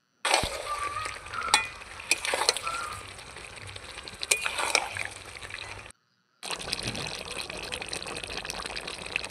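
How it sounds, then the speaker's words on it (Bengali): Chicken cooks in oil in a pan with a ground coriander-leaf paste, a busy sizzle broken by scraping stirs and wet, clattering bursts. A short silent gap comes before the frying resumes at a steady level. "বেটে রাখা ধনে পাতার বাটাটা মাংসের মধ্যে দিয়ে আরও কিছুক্ষণ কষিয়ে নেব"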